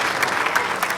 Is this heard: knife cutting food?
no